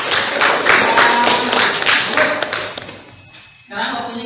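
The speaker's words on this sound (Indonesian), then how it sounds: "Tepuk tangan buat Ila." Students in a classroom clap for a classmate, a loud close burst of many hands that fades out after about three seconds, followed by a voice speaking.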